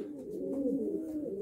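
A pigeon coos softly in a low, rolling, continuous call, close by and alone, with no talk over it.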